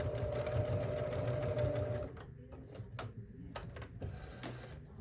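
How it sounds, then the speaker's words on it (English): Up close, a sewing machine bastes a tote bag seam over pins in a brisk, even run of about two seconds, then stops, followed by light clicks and fabric shuffling. "So I'm basically basting them in place."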